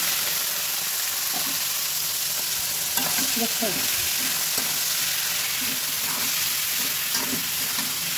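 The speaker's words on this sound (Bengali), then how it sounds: "এখন এই শাকটা দিয়ে দিব এর মধ্যে, লাউ শাকটা যে ভাপ দিয়ে রাখছি" Steamed bottle gourd greens frying with onion and garlic, a loud continuous sizzle with stirring scrapes and clinks, a brief spoken word partway through.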